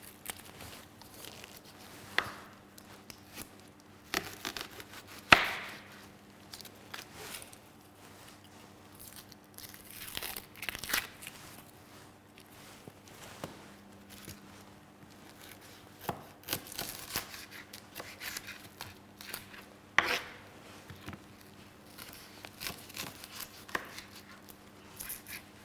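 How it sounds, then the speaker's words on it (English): A red onion is peeled and roughly chopped by hand: quiet, scattered crisp knife taps and crunches on a board, with soft rustles of papery skin between irregular cuts. "Then I roughly chop the onion."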